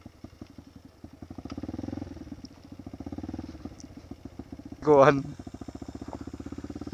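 A motorcycle engine idles and putters steadily throughout on a rocky road toward Kayapa, Nueva Vizcaya, with a short louder burst near the middle, while a voice talks over it.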